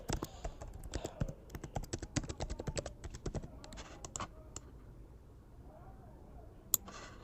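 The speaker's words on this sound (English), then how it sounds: "click on T on your keyboard and type" Rapid typing on a computer keyboard during a Figma web design session, with dense clusters of close, crisp key clicks for about four seconds, a pause, then a few scattered taps and a final burst of keystrokes.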